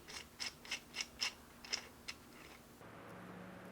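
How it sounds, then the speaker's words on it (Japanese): Torque wrench setting dial being spun quickly, a string of about eight crisp ratcheting clicks in an uneven rhythm, close and faint, followed by quiet. "ダイヤルはぐるぐる回せますので設定スピードは速いっすね"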